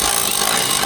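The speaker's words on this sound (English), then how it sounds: "trying to drill some holes in my roof" A power drill bores into the roof of a Ford, giving a loud, steady, broadband whine and grind that runs unbroken throughout with no voices.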